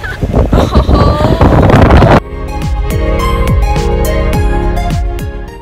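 Strong wind buffets the microphone while parasailing, a loud, rumbling roar for about two seconds before it cuts to a steady, rhythmic music track.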